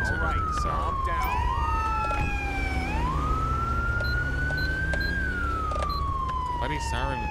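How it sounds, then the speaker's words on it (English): A loud, nearby police siren in GTA 5 running the LSPDFR mod, sliding in long rising and falling wails that overlap a second siren tone, with a steady rumble of traffic beneath. "the siren is like on somewhere over here."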